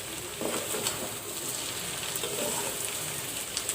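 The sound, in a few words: papaya frying in a pan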